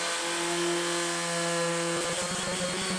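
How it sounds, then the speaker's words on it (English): Power sanding with 120 grit sandpaper during a New Orleans home renovation, a loud steady motor whine with a tonal hum that shifts to rougher, grittier contact noise near the end. "I'm going to sand these really quickly."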